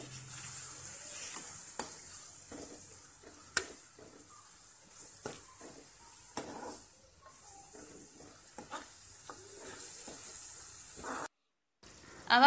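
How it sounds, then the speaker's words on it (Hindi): Finely chopped tomato frying in a pan for a spicy Goan fish curry, a steady soft sizzle and hiss with occasional faint clicks and stirring taps, quiet and continuous. "अब हमने डाला है एक टमाटर बारीक कटा हुआ, उसको भी अच्छे से फ्राई कर लेते हैं।"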